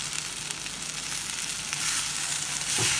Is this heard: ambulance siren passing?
no